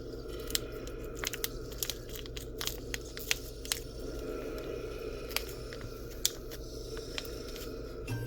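Someone tastes and chews Lanzhou-style beef flavor instant noodles, giving soft, wet, close chewing and slurping with scattered small clicks and crunches over a steady low background hum.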